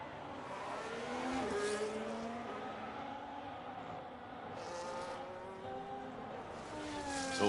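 Several race cars in a sim racing game droning steadily on their out laps, engine notes rising and falling in overlapping tones at moderate distance, with no talk over them.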